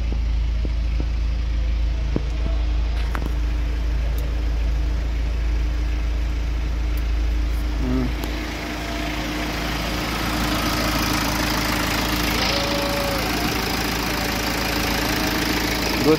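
A BMW car engine runs steadily after a timing repair, a continuous low rumble at idle with a faint knocking character throughout, close by and without talk.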